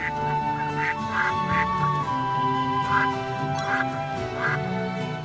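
Ducks quack in the video game Baten Kaitos, a few short bursts repeating at a steady pace over sustained background game music.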